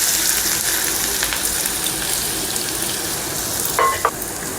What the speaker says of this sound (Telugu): ఆయిల్ కొద్దిగా హీట్ అయ్యాక మనం ముందుగా కట్ చేసి పెట్టుకున్న ఒక కప్ ఆనియన్స్ వేసుకుందాం